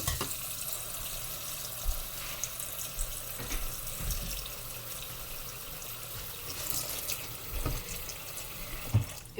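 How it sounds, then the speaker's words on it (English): Pasta being poured back into cold water in a kitchen sink, with a steady running-water wash and splashes, occasional clunks and drips, fairly close and continuous with no talking. "So now I'm going to pour the pasta back in cold water."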